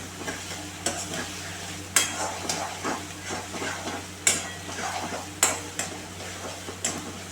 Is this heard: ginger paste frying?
yes